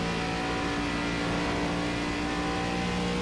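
The new ARCA race car in iRacing drones along with a loud, steady engine tone that holds nearly constant pitch throughout, and no voices are heard.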